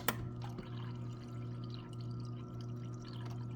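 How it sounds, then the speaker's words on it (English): Water pours steadily from a Samsung refrigerator's door dispenser with its water filter bypassed, a continuous close splashing stream over a low appliance hum. "So now let's see if this water pours faster."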